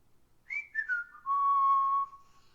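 A woman whistles a short, sliding melody in an audio adventure game set in a forest, several quick rising and falling notes followed by one long held tone, clear and close with no talking.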